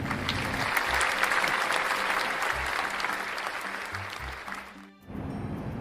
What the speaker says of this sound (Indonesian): Tepuk tangan teman-teman untuk Rani.